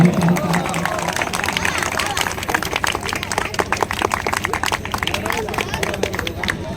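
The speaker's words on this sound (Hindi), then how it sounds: "तालियां बजाने में कंजूसी कर रहे हैं भैया।" Sustained crowd applause at a Sant Ravidas Jayanti birthday celebration in Saidabad, dense rapid clapping from many hands mixed with crowd murmur and voices, steady and loud throughout.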